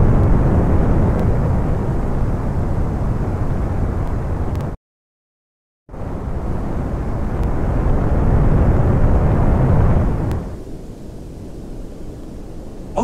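A plane in the game Spaceflight Simulator takes off and flies, making a loud, steady roaring engine rumble that cuts out for about a second, returns, then drops to a quieter hum near the end.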